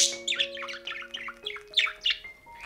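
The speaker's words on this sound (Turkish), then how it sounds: "kuşumuzun kafa sallayarak sesler çıkarması" A male budgerigar chatters in rapid warbling courtship chirps and squeaky notes, close and lively, with a faint electronic hum underneath.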